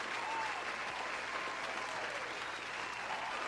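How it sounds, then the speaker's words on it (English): A round of applause plays as a sound effect, continuous dense clapping at an even, moderate level from start to finish, with no one speaking over it. "Round of applause?"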